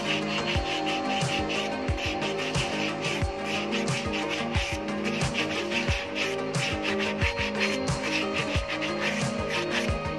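A motorcycle drum brake shoe lining is scraped by hand in a steady back-and-forth rhythm of rasping strokes, close and fairly quiet, with no talking.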